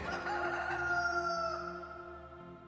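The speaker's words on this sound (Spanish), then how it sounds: "enseguida cantó el gallo" A rooster crows once, loud and close, in a long drawn-out call that fades at the end. No one talks.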